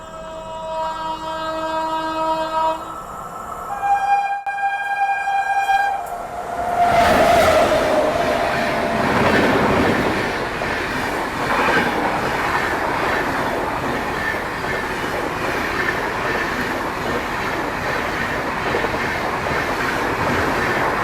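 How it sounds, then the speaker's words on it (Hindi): An Ahmedabad-bound express train overtakes on the adjacent track, its sustained multi-tone horn sounding first before a loud rush of passing coaches and steady clickety-clack of wheels that continues and gradually settles. "फाइनली पूरी अहमदाबाद अपने को यहाँ पे ओवरटेक करने वाली है।"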